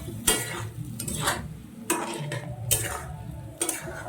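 Water stirred into a bowl of spice mix with Kashmiri chilli powder, a spoon scraping and knocking against the bowl in irregular close strokes, with a faint frying hiss underneath.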